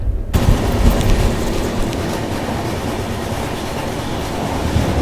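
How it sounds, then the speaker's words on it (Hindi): A train rumbles past close by near Ernakulam, a loud, continuous roar of wheels and rail noise that starts abruptly and holds steady. "कोई ट्रेन के साथ क्रॉसिंग हो रहा है"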